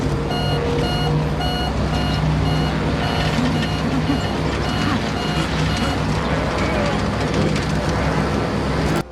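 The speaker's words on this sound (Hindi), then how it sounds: "तभी प्लेन का एयरक्राफ्ट ग्राउंड कोलिजन अलार्म बजने लगता है" A steady electronic aircraft ground collision warning alarm beeps repeatedly inside a passenger plane over a constant, heavy engine rumble.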